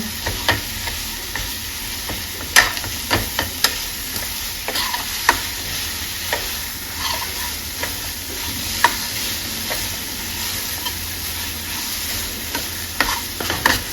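Spinach being stirred into tomato puree and dry spices in an open pan, with a steady close sizzle and repeated sharp spoon scrapes and clicks against the pan throughout, no talk.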